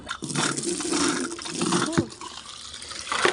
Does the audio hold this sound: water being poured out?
yes